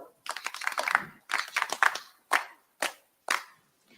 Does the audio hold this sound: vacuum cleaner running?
no